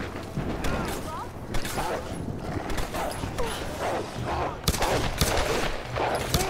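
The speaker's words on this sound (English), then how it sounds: "Why does that sound like someone's shooting at me?" Gunfire from the video game Tomb Raider crackles in scattered bursts through a dense game soundscape, with several sharper cracks standing out, under and between a speaking voice.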